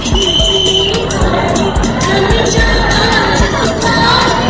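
Children in a school crowd clap and cheer loudly at a prize announcement, a dense continuous din of shouts and sharp claps with voices calling over it throughout.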